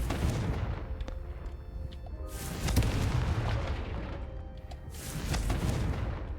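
Confringo spell explosions in the video game Hogwarts Legacy: two or three heavy booming blasts spaced a couple of seconds apart, each with a bright crackling burst on top, over a low rumbling game background.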